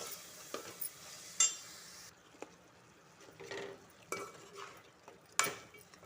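Chicken frying in a pan with a soft, steady sizzle while a spoon stirs and scrapes, giving several clinks and knocks against the metal, all fairly quiet.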